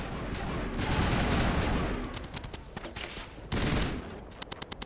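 Sustained gunfire from Mass Effect combat against Geth turrets: dense rattling volleys through the first two seconds, then sparser separate shots and a second heavy burst, with no talk over it.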